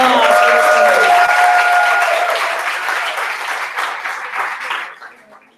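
An audience at a maker educator convening breaks into a big round of applause, dense clapping that is loud at first and gradually thins and fades, with some voices and cheers mixed in.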